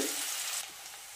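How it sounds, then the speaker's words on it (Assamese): Chopped onion and garlic fry in a hot pan with garam masala, a bright steady sizzle that softens slightly partway through, with no voices. "এটা পিয়াজ দিছো আৰু নহৰু সৰু সৰুকৈ কাটি লৈছো এখিনিও দি দিছো এখিনি অকমান ভাজি লম"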